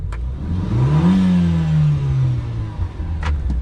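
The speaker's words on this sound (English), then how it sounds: "It has an engine start-stop button." A DC Avanti's engine cranks to life via a start-stop button and revs up, then settles into a rumbling idle, close and loud.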